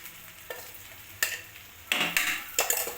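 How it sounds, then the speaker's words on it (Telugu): Masala paste for stuffed eggplant being stirred in a frying pan, a series of scraping stir strokes over a soft sizzle, close and clear with no talking. "వేసుకొని కలుపుకోవాలి."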